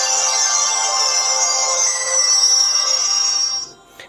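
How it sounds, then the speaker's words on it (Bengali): A Jio J12 phone plays its startup tone, a bright sustained melodic chime that rings clearly for about three and a half seconds before cutting off, loud and close with no talk. "আর আমরা কিন্তু চালু করে নিচ্ছি ফোনটি এবার"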